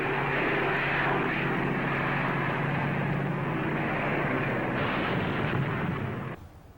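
P-40 fighter planes dive low and speed away in a sweeping curve, a loud, steady engine roar holding for about six seconds before cutting off abruptly.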